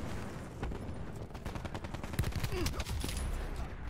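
Gunfire in Call of Duty Black Ops 4, a rapid run of sharp shots and bursts over constant game background noise, moderately loud and continuous.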